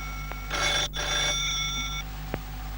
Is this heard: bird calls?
no